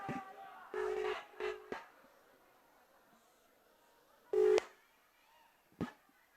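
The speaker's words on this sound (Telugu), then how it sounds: "అరే ఒక్క నిమిషం రా, రింగ్ అవుతుంది" A phone call rings out with short tonal ringback bursts, a few close together and then a louder one after a pause, against a quiet room background.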